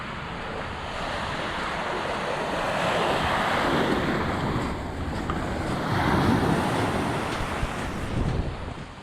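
Ocean waves rolling onto a beach with wind buffeting the microphone, a steady broad wash of surf swelling and easing over several seconds on a Pacific Northwest coastal walk.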